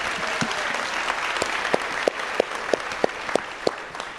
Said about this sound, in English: Let's all big round of applause that she can hear.